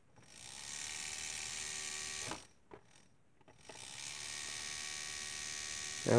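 A homemade DIY tattoo machine run on a 0.5 amp AC adaptor buzzes steadily up close, cuts out for about a second with brief sputters, then starts up again and hums on alone.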